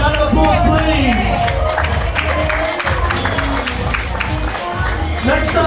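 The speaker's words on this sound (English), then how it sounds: "Ladies and gentlemen, once more, round of applause, please." Applause and cheering from a pageant audience at the Miss and Mrs Glamour Look Australia 2022 grand final: steady, dense clapping with crowd babble and occasional shouts, loud and continuous throughout.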